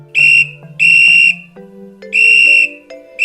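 A small toy whistle, given as a gift, is blown in three loud, shrill blasts with short gaps between them, the last one cut off. A bright tone carries over a lower sliding hum.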